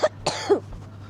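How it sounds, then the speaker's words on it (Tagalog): A woman coughs twice in quick bursts, close and fairly loud, with a short throat-clearing sound between them, winded after chasing a child outdoors. "Inuubo na ako"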